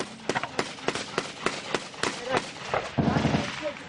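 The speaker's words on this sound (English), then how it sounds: "the Taliban shot the magazine off his gun" Taliban gunfire during an attack on an Afghan soldier, a rapid string of sharp close shots with irregular spacing, followed by a burst of rougher, denser noise near the end.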